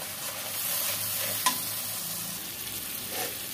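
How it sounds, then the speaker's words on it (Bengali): Potatoes stir-fried in a spice paste in a wok, a steady close sizzle with soft stirring scrapes and one sharp clink of the utensil. "এই যে মশলার মধ্যে আলুটা দিয়ে ভালো করে আমি কষিয়ে নিলাম"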